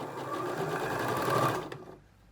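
A sewing machine stitches fabric around a curve in a close, steady whirring run that stops abruptly near the end, leaving quiet room tone.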